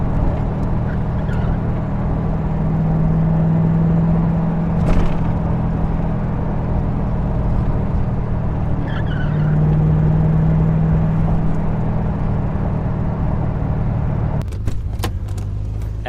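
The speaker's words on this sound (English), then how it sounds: "now we're going to take it for a test spin." A C4 Corvette on a test drive, its engine droning steadily with loud low road rumble throughout, a few faint clicks and rattles, and a brief knock near the end; no talk.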